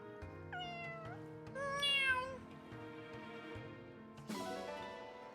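Several drawn-out cat meows from the video game Fire Emblem: Engage, close and clear, rising and falling in pitch, one louder and higher than the rest, with no talking.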